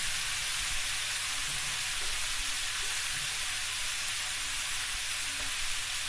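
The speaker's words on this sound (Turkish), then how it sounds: "bu yüzünü 1-2 dakikada diğer yüzünü kızartacağız" Steady, loud sizzling of beef rib-eye frying in a hot pan, a continuous crackling hiss with no talking.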